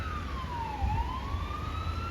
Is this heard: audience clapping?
no